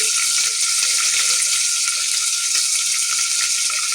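Curry leaves, onion and potatoes frying in oil for masala bhat, a loud continuous bright sizzle that stays steady from start to finish, close up and without speech.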